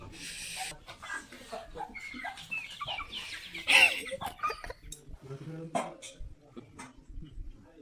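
Chickens clucking outdoors on a cold morning near Ratangad, with several short clucks and calls scattered among people talking and moving about close by.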